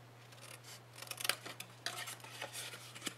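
Scissors snip through a small paper tab during a Stampin' Up! mini tissue holder craft, giving a few quick, soft, close cuts over a faint steady hum.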